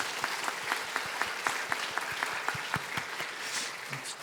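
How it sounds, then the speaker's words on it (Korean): Church congregation applauding award-winning children during a sermon, a steady wash of applause with a rhythmic unison clap pattern beating through it, moderately distant. "우리 귀한 자녀들에게 박수 한번 보내줄까요?"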